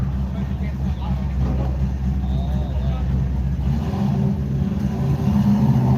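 A turbo pickup truck drives a drag racing pass at a speedway, its engine a steady mid-pitched roar that rises toward the end, with voices talking over it.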